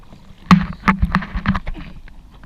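A kayak is paddled fast on the sea in the Maldives, with rapid splashing paddle strokes and water slaps in an uneven rhythm, close and fairly loud, with light wind.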